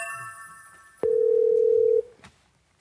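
A steady, loud single-pitch tone lasts about a second as a video call to a special forces regiment of the Capital Defense Command connects, ending with a short blip and then quiet.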